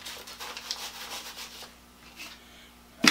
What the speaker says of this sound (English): I'm going to use a piece of this 220 because I don't need to take off any great deal of material.